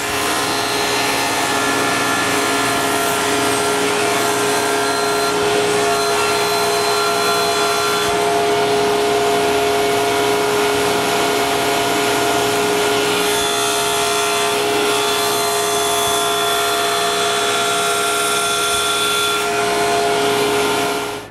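A table saw blade cuts the first pass on a raised panel for an interior door, a loud, steady high whine lasting about twenty seconds before it cuts off abruptly at the end.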